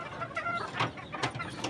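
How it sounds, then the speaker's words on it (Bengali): Hens on a poultry farm cluck in short, close bursts, one loud, rising call after another, as a hen lays an egg during hot weather. "হ্যাঁ, একটা মুরগি ডিম পারছে।"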